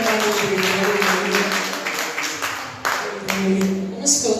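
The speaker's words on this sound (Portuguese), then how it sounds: "Aplauda o Senhor bem forte" Clapping from a church congregation rises and continues in a dense, echoing wash, with voices mixed in among the hands.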